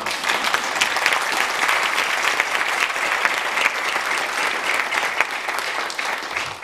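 Audience applause at a Turkish classical music choir concert at Atılım University, steady dense clapping from a crowd throughout, loud and continuous.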